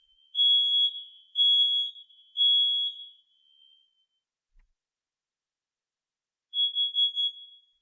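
A smoke and fire alarm sounding during a monthly test gives three loud, shrill beeps in a row, pauses, then beeps once more in a pulsing burst, with near silence between.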